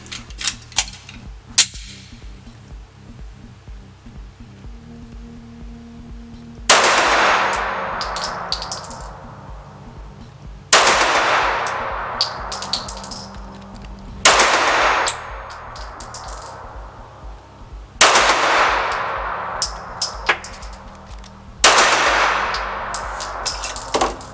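A Walther Q5 Match Steel Frame 9x19 pistol fires five loud, sharp shots at a target, roughly every three to four seconds, each with a long echoing decay as on an indoor range.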